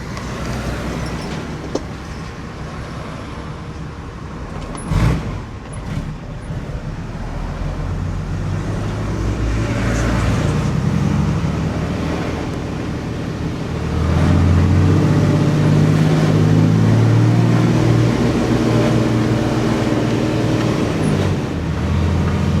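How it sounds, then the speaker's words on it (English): Road traffic in Kingston, Jamaica, a steady wash of passing cars, buses and trucks with engines rumbling and swelling louder midway, one sharp knock near the start. "Traffic."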